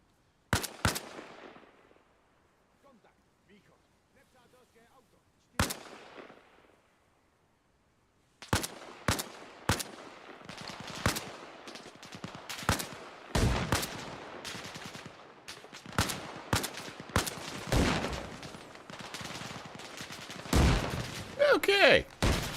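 Gunshots and bursts of rifle fire in the military game ArmA Reforger: a few isolated sharp cracks early, a lull, then sustained volleys of sharp reports, some close and loud, others farther off.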